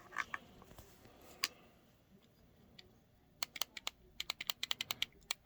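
Tiny Atari 2600 arcade controller joystick clicked by hand, sharp dry clicks, scattered at first and then coming in quick rapid bursts, close and faint in a quiet room.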